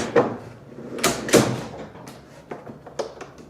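A homemade budget overland kitchen slide-out is unlatched and pulled from a trailer, giving a series of sharp knocks and a few clunks and rattles close by.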